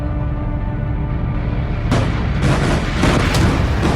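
An Israeli airstrike explodes in Beirut, heard as a heavy, continuous rumbling roar that suddenly swells and thickens midway, with rolling booms and no voices.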